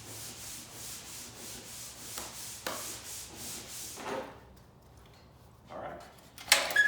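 Repeated strokes of 240 grit sandpaper over forged carbon fiber for a C8 Corvette part, a steady rhythmic rubbing for about four seconds, then quieter pauses and a brief scrape near the end.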